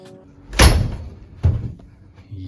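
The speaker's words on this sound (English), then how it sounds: "let me close the door." A room door swings shut with a solid slam, followed by a second softer thud as it settles, close and loud with light background noise.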